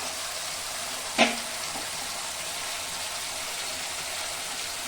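Hot water goes into a frying paneer mixture with one quick splash and clack, followed by a continuous, fairly loud hiss of steady sizzling that carries on to the end.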